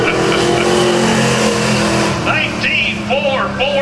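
Race cars, a Honda and a Mustang, roar around the Langley Speedway oval in a loud, continuous engine drone that swells and shifts pitch as they pass, with a voice speaking over it toward the end.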